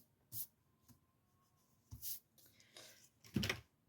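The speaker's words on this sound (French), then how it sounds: "Je vais voir si c'est bien pour gommer" An eraser rubs across paper in a few short, scratchy bursts of uneven length, quiet and close, with no talking.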